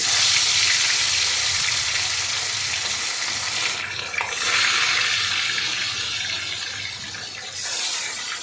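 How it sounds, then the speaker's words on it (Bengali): Tilapia fish sizzle in hot oil in a wok, a steady loud hiss and crackle of frying that holds throughout with slight surges as the pieces shift. "মাছগুলো একটু সুন্দর করে লাল লাল করে ভেজে নিতে হবে"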